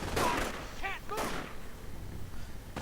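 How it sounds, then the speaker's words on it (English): Artillery and gunfire rumble in a WWII strategy video game, with a sharp burst near the start and later thuds over steady game ambience, while a commentator talks throughout. "And looks like artillery is being called down somewhere."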